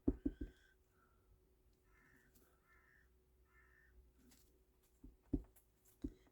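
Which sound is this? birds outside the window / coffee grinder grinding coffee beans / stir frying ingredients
birds outside the window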